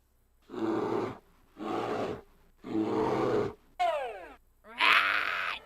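Cartoon bear growling from the 1997 Living Books game Arthur's Reading Race: a few deep rumbling growls and grunts in separate bursts, ending with a short squeal and a raspy roar, close and fairly loud.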